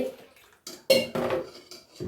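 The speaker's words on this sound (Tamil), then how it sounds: "மாவு நல்லா கரைச்சிக்கிங்க" Metal utensil scraping and clinking against a pot in a few short bursts, close and fairly quiet, as idli batter made from ration rice is mixed with salt and a little water.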